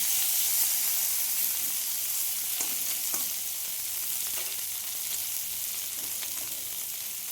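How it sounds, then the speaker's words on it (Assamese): Steady sizzle of food frying in hot oil, close up, with a few faint stirring clicks and no talking. "মাছ ভাজি লোৱা তেলখিনিতে মই আলু অলপ ভাজি লওঁ।"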